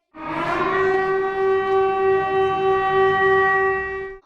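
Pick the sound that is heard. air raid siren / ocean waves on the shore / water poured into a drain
air raid siren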